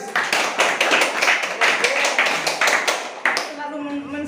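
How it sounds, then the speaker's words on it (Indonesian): Audience applause at an office supervisor inauguration ceremony, a dense burst of many hands clapping steadily before tapering off near the end, with some voices underneath. "Aplaus guys"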